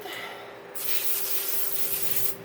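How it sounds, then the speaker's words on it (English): Pam cooking spray sprayed onto a pan: a faint hiss, then a steady, close aerosol spray burst of about a second and a half, with no talk. "make sure it's sprayed down with a little Pam, and spread it."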